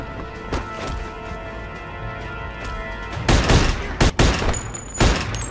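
Gunfire in a Mafia II shootout, with scattered single shots early, then loud rapid bursts and booming volleys near the end over a low game soundtrack bed.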